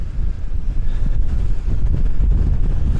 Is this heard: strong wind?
yes